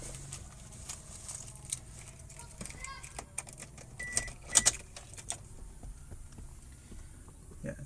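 Keys jangle and clink close by in the ignition of a 2003 Toyota Vios G as it is switched on, with several sharp metallic rattles over low cabin rumble and a voice in the background.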